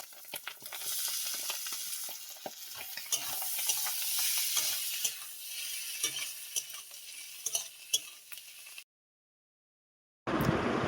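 Fried eggs with onion and green chilli sizzle in a pan, with a busy crackle broken by frequent scraping stirs, then a short silence before the frying returns.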